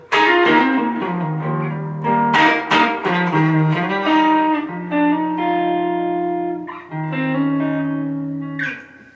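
An electric guitar plays sustained, ringing notes and chords with a lightly processed effects tone, steady and fairly loud with no talking.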